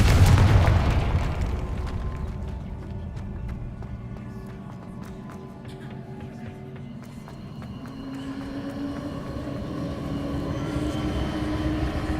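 A Confringo spell blast in Hogwarts Legacy: a loud booming explosion at the start, then a rumbling tail and lingering magical hum that fades to a steady background drone.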